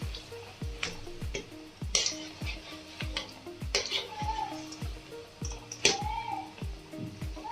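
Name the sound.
sabbakki soppu pakoda deep frying in oil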